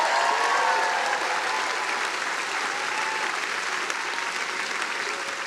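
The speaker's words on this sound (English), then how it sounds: "So how about we give a round of applause to your parents" Sustained, dense applause from a big audience at a graduation-style ceremony fills the space evenly, a steady wash of clapping with a faint cheer or two.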